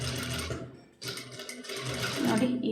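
A sewing machine runs while stitching a neckline, a steady rapid whirring hum that stops briefly for about half a second, then restarts and continues, close and alone.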